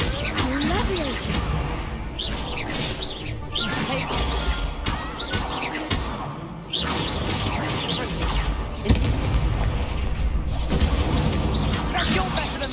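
Repeated Confringo fire spell blasts and crashes in Hogwarts Legacy, a wizarding-school action game, bursting loudly and continuously amid a busy battle din, with a player's voice shouting over the fight.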